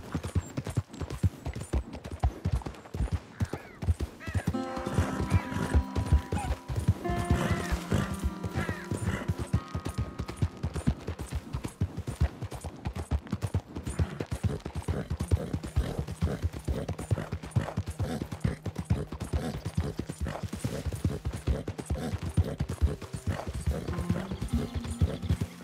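Horse hooves clip-clop and gallop in Red Dead Redemption 2 in a steady, fast rhythm over a long stretch, with occasional neighing and snorting mixed in.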